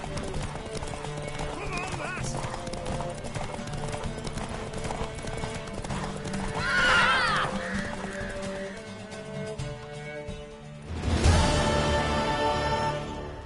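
Rhythmic hoofbeats of a galloping mare run steadily with a whinny partway through, over music and game effects from The Witcher, ending in a louder burst.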